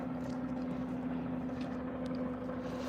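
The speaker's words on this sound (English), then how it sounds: "Helicopter circling overhead." A helicopter circles over Salt Lake City during a police search, heard as a steady, low, distant drone that holds even throughout, with no talking.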